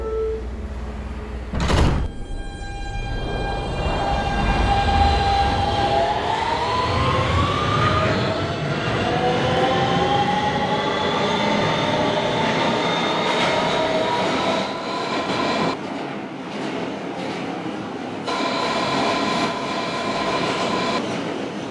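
A Kawasaki R160B subway train in a Roblox game accelerates with a rising whine of traction motors that climbs in pitch, over a steady rolling rumble, with a sharp door-like thump early on.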